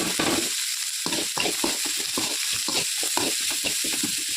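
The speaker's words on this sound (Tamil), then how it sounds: "நல்லா ஆனியன் வந்து பொன்னிறமாக வரையும் நல்லா வதக்கிக்கணும்" Chopped onions are sautéed in a pan, giving a steady sizzle broken by rhythmic scraping strokes of stirring, close and fairly loud, with no voices.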